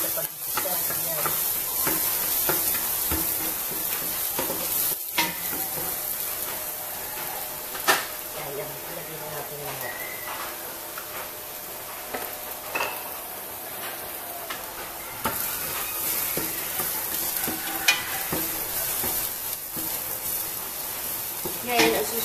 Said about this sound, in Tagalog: Ngayon, unahin po natin ang garlic. Kailangan po maraming garlic para masarap. Sa pag-gisa.